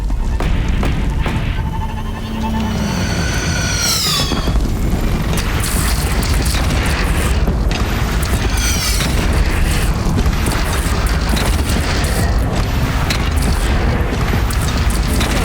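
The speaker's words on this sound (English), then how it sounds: "Take up a cannon on the platform." Cannon fire in a video game booms repeatedly, with loud, dense blasts and crashing layered over a constant roar of battle noise.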